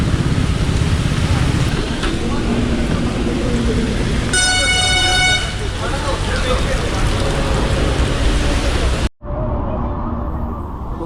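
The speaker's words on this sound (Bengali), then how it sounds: "মুষলধারে বৃষ্টি হচ্ছে" Heavy monsoon rain pours down steadily during a motorcycle ride from Kolkata toward Balasore, a loud wash of noise with a horn tooting briefly in the middle and a sudden cut near the end.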